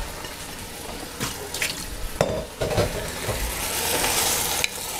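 Braised octopus with Chianti and tomato in a pan, stirred and given a shake; clattering stirs and a few sharp knocks over a steady sizzle, close and fairly loud, with no talking.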